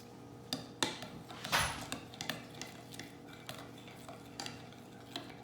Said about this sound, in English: We're gonna stir it up here.